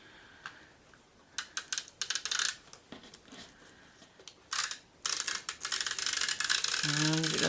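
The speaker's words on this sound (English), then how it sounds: "I've got a Tombow tape runner here," Tombow tape runner laying adhesive along ribbon on paper for a pumpkin-themed card kit, giving short scratchy rolling passes in bursts, then a longer steady run near the end, close and alone.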